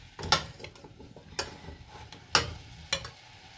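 Cashew, avocado and cilantro chutney being swirled in a pan during home cooking, with a few soft scraping and clinking sounds at irregular intervals over a faint sizzle, close and quiet with no talk.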